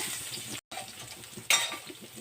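Garlic goes into hot oil in a pan for a keerai paruppu curry and sizzles loudly with close, bright frying hiss. It breaks off briefly, then flares up sharply again with a fresh burst of spatter.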